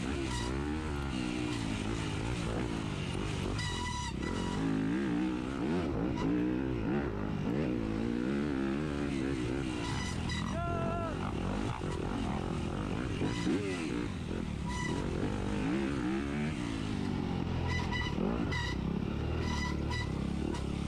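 A 250 dirt bike racing in a 2021 NCHSA round at Lost Valley: a constant, buzzy engine drone rising and falling as it revs, with other bikes mixed in, a steady wash of motor noise and no talk.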